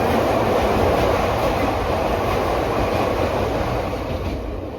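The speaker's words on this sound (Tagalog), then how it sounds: "Dumaan yung train." A train passes close to a house, a loud continuous rumble and rolling roar from the railcars that slowly fades toward the end, with no voices.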